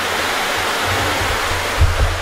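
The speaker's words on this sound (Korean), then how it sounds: "이 시냇물 소리가 그대로 들어와서 너무 좋아요" A mountain stream runs steadily beside a wooden lodge-style house in Danyang, Korea, a continuous broadband wash of flowing water with a few slightly louder low surges near the end, heard alone without voices.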